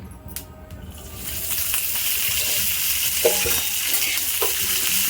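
Green chillies, garlic, cumin and a little oil are stirred in a hot pan for chilli thecha, and a broad hissing sizzle swells after a quiet start, with a few soft scraping knocks of a spoon, close and without talk.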